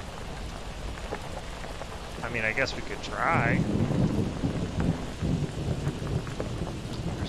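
Steady rain and rumbling thunder play in the video game Last District, a continuous wet hiss with a rolling swell of thunder, while someone talks briefly over it.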